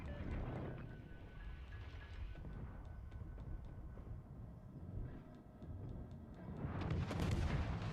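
A torpedo hitting a Shimakaze destroyer in the naval battle game World of Warships: Legends, with low rumbling booms and a louder burst of explosion near the end, set against quiet battle ambience.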